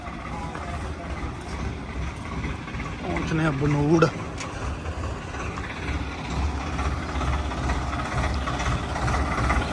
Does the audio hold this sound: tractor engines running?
yes